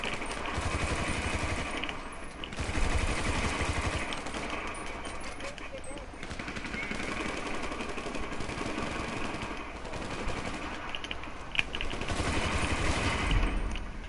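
Rapid gunfire bursts and fusillades crackle through a video game match, repeated over a steady engine-like background drone.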